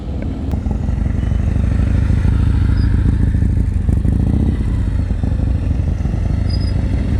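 A motorcycle rumbles close by at low, steady revs through slow-speed practice turns, with a continuous engine drone and faint clatter and no talk.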